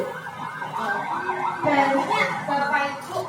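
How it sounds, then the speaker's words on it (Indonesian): An ambulance siren wails in a rising and falling pattern as it passes along a street, fairly loud and present throughout, with some background noise mixed in. "Sekarang ambulan juga banyak berlalu lalang"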